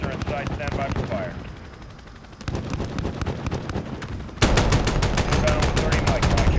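A Viper attack helicopter's cannon fires in the Modern Warfare video game. The gun gives rapid, rhythmic bursts of automatic fire that grow louder and denser toward the end.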